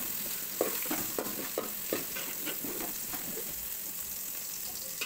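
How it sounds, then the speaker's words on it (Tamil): Onions sauté in a generous amount of oil in a pan, giving a soft, continuous sizzle. Light, irregular spatula taps and scrapes sit on top, fairly quiet and without talking. "அதில் கட் பண்ணி வச்சுருக்கேன் வெங்காயத்தை சேர்த்துக்கிறேன், நல்லா வதக்கிக்கிறேன்"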